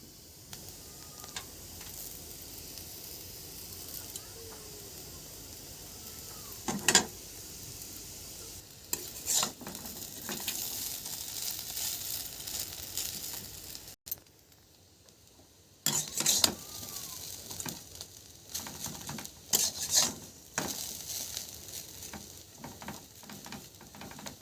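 Chowmein noodles for an egg chowmein are stir-fried in a pan, with a constant sizzle under repeated scraping and tossing strokes. The frying briefly quiets near the middle before the stirring picks up again.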